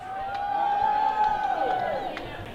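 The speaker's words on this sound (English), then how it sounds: "the crowd is going absolutely nuts" Crowd noise at a polo match, the USPA Ringling Cup in Sarasota, Florida, rising in a sustained, dense roar of cheering that stays loud across the whole stretch, with a whistle-like tone cutting through.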